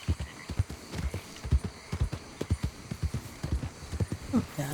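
Horse hooves clip-clop in a steady trotting rhythm across the ground in Red Dead Redemption 2, close and distinct, with faint ambient game sound beneath.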